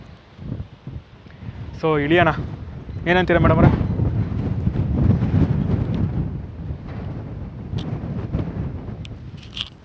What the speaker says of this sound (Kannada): ಗಾಳಿ ಜಾಸ್ತಿ ಇದೆ ಇವಾಗ